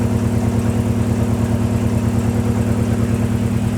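Car engine with a home-wired harness running with injector 3 switched off, a steady loud rhythmic idle with even low pulsing, close and uninterrupted.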